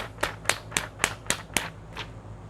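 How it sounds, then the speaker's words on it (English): Seven sharp hand claps in a steady, evenly spaced rhythm, close and clear, with the last one softer, during a children's English sound-and-word game. "Clap your hand again."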